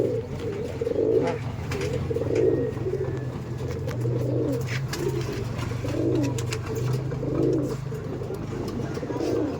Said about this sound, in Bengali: দেখুন দেখুন কতটা অ্যাগ্রেসিভ পায়রা